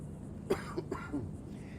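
A few soft, muffled coughs in quick succession, fairly quiet and close.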